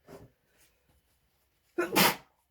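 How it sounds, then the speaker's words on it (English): A woman sneezes once, a sudden loud burst after a few faint breaths and small sounds, close and alone with no talk. "I'm going to sneeze."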